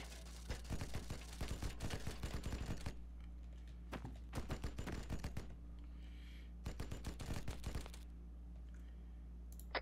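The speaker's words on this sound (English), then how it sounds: "I hear gunfire." Bursts of rapid gunfire in a game setting, crackling volleys in several clusters separated by quieter gaps, fairly faint and distant-sounding, no talking.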